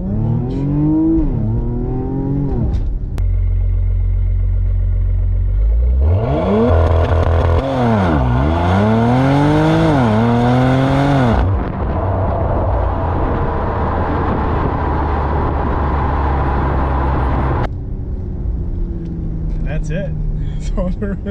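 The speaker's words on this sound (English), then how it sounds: "Press the brake down" A 2015 Porsche Macan Turbo with an automatic gearbox in Sport Plus mode revs hard against the brake for launch control, the engine climbing and falling in surging sweeps, with a person talking over parts of it.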